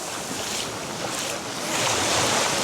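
Ocean waves and wind at a Dominican Republic beach where boats come in, a steady broad wash of surf and wind noise that swells louder toward the end, with no talking.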